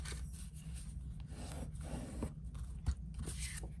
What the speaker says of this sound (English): And then what we're going to do is fold and burnish.